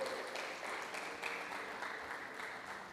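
A church congregation applauds, a dense, even clapping that holds steady for a few seconds at moderate loudness with no talk over it.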